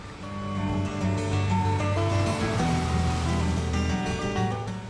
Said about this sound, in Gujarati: સરસ દરિયાનો અવાજ કાનમાં જઈ રહ્યો હતો.